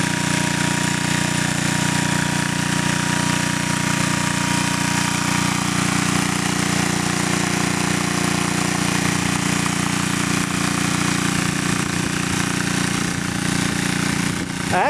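A wood-gas powered engine runs steadily and loudly up close, a constant droning hum with a rough mechanical chatter and no change in pace.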